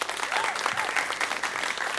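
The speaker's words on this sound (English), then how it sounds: "Big round of applause for Miramar." An audience at a high school quiz competition bursts into applause for the Miramar team, dense clapping heard close and loud throughout, with a few voices calling out within it.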